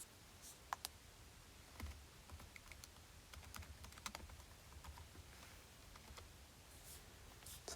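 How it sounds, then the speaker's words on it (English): Keys tapped on a calculator to enter numbers, a quiet scattered series of light clicks and taps, close and faint over soft room noise, with no talking. "I'll just type that into a calculator."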